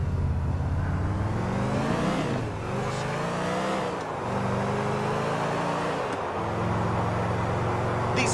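Car driven in GTA IV, a steady engine drone and whir with shifting revs and short dips as the vehicle slows and picks up speed again, close and continuous throughout with no talk.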